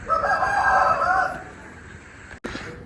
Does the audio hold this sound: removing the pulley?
no